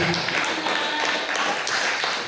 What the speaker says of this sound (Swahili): Ongeza tena makofi.